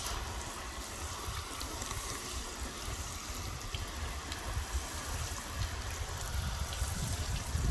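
Steady hiss of water spraying and splattering onto car window glass treated with ceramic glass cleaner, continuous and fairly faint, with no voices.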